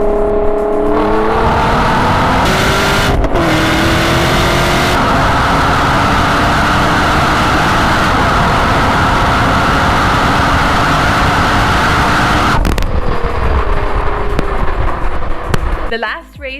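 Engines of a Camaro ZL1 and an all-wheel-drive Nissan GT-R drag racing from a roll, with loud, sustained acceleration roar and rising engine tones, steady and close, dropping away near the end.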